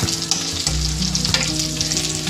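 Four Kashmiri chillies sautéing in hot oil in a pan with browned onions, a loud close crackling sizzle with quick stirring scrapes, sustained and without speech.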